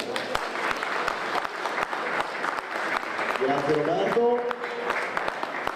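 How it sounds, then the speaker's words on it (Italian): Audience applause at an Italian journalism award ceremony, honoring a late prize winner; a steady wash of clapping runs throughout, with someone speaking briefly over it. "facciamo solamente un applauso"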